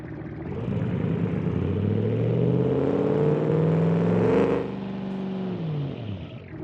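A large engine revs up steadily with a rising roar, holds high for a few seconds, then drops back to a lower idle rumble.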